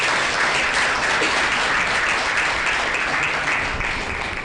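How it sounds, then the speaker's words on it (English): An audience applauds the signing of a memorandum of understanding at a Botswana ceremony, a loud, steady wash of clapping that holds for several seconds before easing slightly at the end. "now let's clap for the signing of the MOU"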